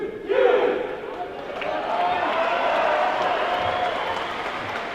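Crowd noise from spectators at Wellington's first futsal international, a 2013 Trans Tasman Cup game between Australia and New Zealand: a sustained, fairly loud roar of applause and cheering that swells after a brief lull at the start.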